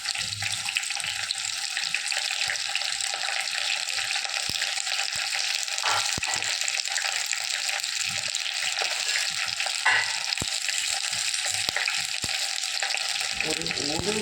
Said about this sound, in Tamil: இப்போ வெங்காயம் நல்லா வதங்கிட்டு